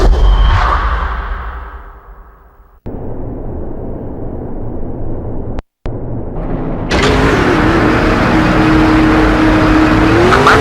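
NASCAR race cars roar in the NASCAR 07 video game at Darlington, a loud engine drone that fades away, cuts out briefly, then returns as a close, steady full-throttle whine with rising pitch.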